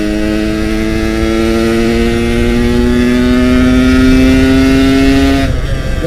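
A Yamaha RX King two-stroke motorcycle engine runs loud and steady while riding, its pitch climbing slowly as it accelerates, then cutting off sharply near the end.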